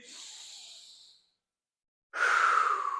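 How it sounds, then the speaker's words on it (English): During a pause in an upper-body workout, someone takes a long, breathy exhale, falls silent briefly, then draws a louder, rushing breath in close to the microphone. "So let's breathe."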